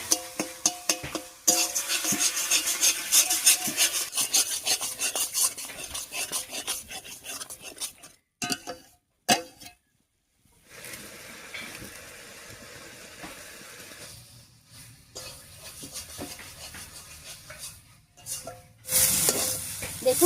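Taro leaves cooking with dried fish in a pan, stirred steadily with scraping, rasping strokes over a constant sizzle, close and continuous, with a few brief pauses and then a return to stirring.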